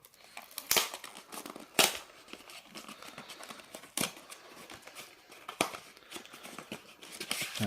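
Traptrix structure deck packaging being opened by hand: a few sharp crinkling rips and tears of plastic wrap, close and fairly quiet, with softer rustling between the louder bursts.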